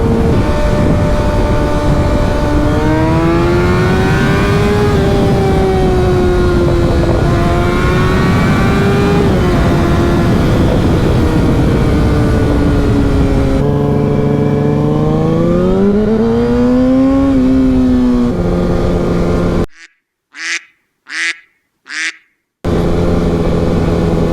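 A car engine accelerates and revs loudly close by on the road alongside a motorcycle ride, pitch climbing and dropping through gear changes for a long stretch, ending in a few short quacking honks after a break.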